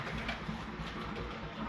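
Highflyer pigeons, Chinese-type birds kept for sale in Lahore, coo in low soft repeated murmurs close by, with a faint background hiss and no voices.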